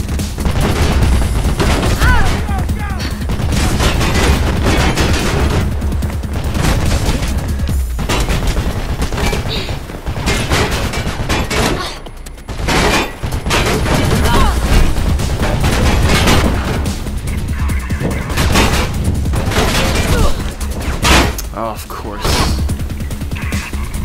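Continuous heavy gunfire and booming explosions from the video game Mirror's Edge, loud and dense throughout, with bursts of shooting layered over a constant rumble and some game voices underneath.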